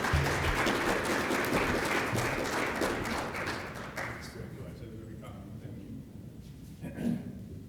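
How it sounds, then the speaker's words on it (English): An audience gives a warm round of applause for Dr. Applegate at an adult learning talk, loud, dense clapping that thins and fades after about four seconds, leaving scattered claps and room noise. "Let's all give him a warm round of applause"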